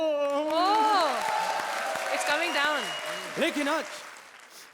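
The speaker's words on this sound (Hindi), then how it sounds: "अबे जादू हो रहा है, ताली बजाओ।" A studio audience on a TV comedy show applauds in a steady wash of clapping, largely under a loud, animated voice speaking over it.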